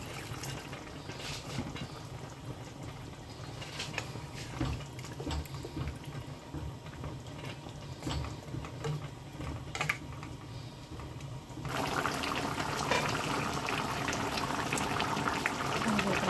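Cauliflower simmers in a little added water, a faint bubbling boil with scattered clicks and small ticks, growing louder and brighter near the end; no talking is heard.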